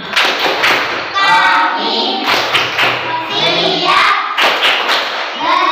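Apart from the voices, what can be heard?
rhythmic classroom clapping for concentration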